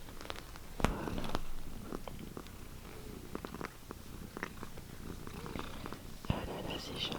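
A cat purring softly while being cuddled, a low steady rumble close by, quiet and mixed with small rustles and handling noises, with no talking.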